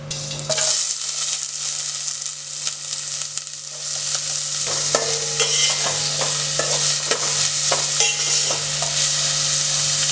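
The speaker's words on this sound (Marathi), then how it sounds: "कांदा तेलात थोडासा परतून घ्यायचा जरा लाल होईपर्यंत" Onions frying in a spoonful of oil for a wild Bharangi forest vegetable dish: after a brief quiet start, a continuous sizzle builds with frequent close stirring scrapes and spatula clicks, accompanied by a steady low hum.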